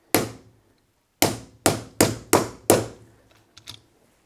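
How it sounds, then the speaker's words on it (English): Small sharp taps from a punch drive out a Traxxas Sledge drive shaft pin: one isolated hit, a pause, then four quick evenly spaced strikes, followed by two lighter clicks, close and crisp. "have to grab a little punch and kind of just punch it out ever so gently"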